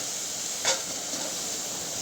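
Eggplant steaming in a covered pan on a home stove gives a steady soft hiss throughout, with one brief louder puff of vapour near the start.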